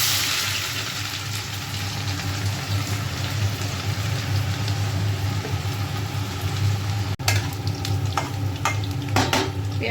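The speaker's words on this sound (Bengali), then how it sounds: "পেঁয়াজটা ভাজা ভাজা হয়ে গেছে," Grated onion, three medium onions, frying and sizzling steadily in a pan, a dense continuous hiss with occasional stirring scrapes and a sharp clatter near the end, heard close and alone.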